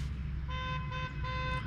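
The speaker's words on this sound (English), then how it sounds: "So Dad's honking for him, trying to get him to come up here" A car horn on a cattle farm honks in three steady toots with short gaps between them, heard over a low engine rumble.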